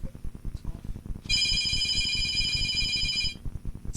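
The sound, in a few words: phone ringtone ringing from a bag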